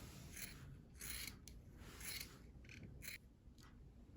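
Scissors snip into a knit sweater to cut out a small circle, a series of short close crisp cuts in uneven rhythm, about six or seven strokes, fairly quiet.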